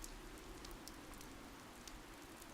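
Soft, steady video game rain in Fire Emblem: Three Houses patters continuously with scattered faint droplet ticks, quiet and even throughout.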